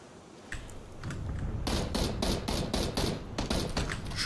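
Gunfire in the video game PUBG, a rapid series of sharp shots in quick succession with short bursts and brief gaps, loud and close over a steady background.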